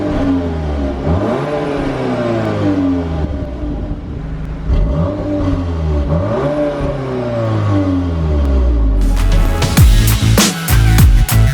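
A 300-horsepower VW T-Roc R accelerating hard, its engine rising through the revs in repeated sweeping pulls with gear changes, loud and close, ending in a sharper burst of clattering mechanical noise.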